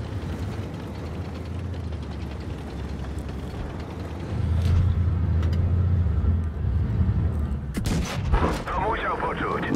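Tank cannon fire in the mobile game World of Tanks Blitz, with the 60TP tank in play. A sharp, loud blast near the end cuts through a steady rumble of engine and battle noise, and someone talks during the clip.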